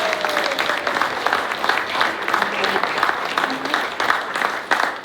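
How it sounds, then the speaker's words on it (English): Wedding guests at a rustic barn reception give the bridesmaids a round of applause, dense steady clapping filling the room for several seconds, loud and close, with a voice speaking faintly underneath. "Give them a round of applause."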